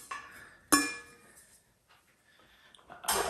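A metal heat distributor from a Campingaz Party Grill 400 CV clinks while being handled, with one sharp close clink followed by lighter rattles and a second clatter at the end, no talk over it.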